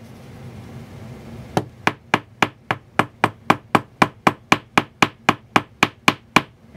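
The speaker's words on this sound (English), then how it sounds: "I'm slowly just going around the outer edge with the round part of my hammer" After a short quiet pause, the round face of a hammer strikes a brass wire rivet in a steady run of about eighteen sharp, evenly spaced taps, close by.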